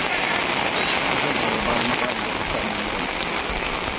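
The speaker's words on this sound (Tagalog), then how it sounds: "Lakas ng ulan." Heavy rain from a typhoon pours steadily, a dense unbroken hiss drumming on surfaces up close.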